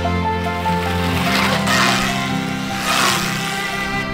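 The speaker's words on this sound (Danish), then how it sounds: "så det du kan høre, det er kun din kørsel. Du kan høre kæden, dækkene, bremserne." Electric motorcycle riding along a rough trail, a continuous close whirring hum with layered tonal whine, tyre rumble and chain noise, with two brief swells of hissing friction like braking or rough ground; no engine sound and no talk.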